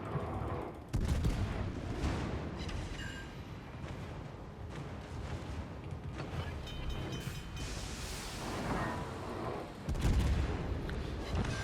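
Naval guns fire in a warship battle game featuring a Moskva cruiser, rumbling blasts and booming salvos rolling continuously at high loudness, with heavier volleys near the start and again toward the end.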